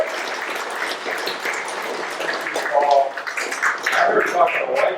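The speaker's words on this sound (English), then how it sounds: "Give one more round of applause." A crowd at an outdoor-style celebration for a whale protection win claps and cheers in a dense, steady wash of applause, with a voice speaking over it.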